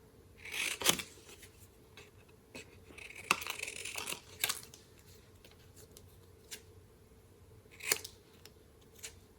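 Paper is trimmed with scissors for a Halloween boo craft, giving a few separate snips and cutting bursts, close and fairly quiet, with light paper rustles and handling noises between cuts.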